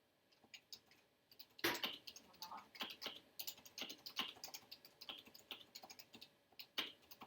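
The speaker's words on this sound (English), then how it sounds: "This is the Leopold FC660C. Listen to the thok." Typing on a Leopold FC660C mechanical keyboard with a standard keycap set, a brisk irregular run of close, crisp keystrokes and deeper thocks, with a louder spacebar-like hit after a quiet start.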